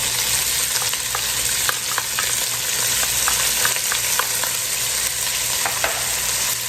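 Onions and green pepper sizzle loudly in a pan after bacon, a dense continuous frying hiss with light clicks of stirring, close and without speech.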